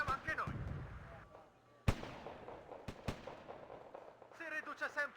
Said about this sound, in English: there's some new mortars in there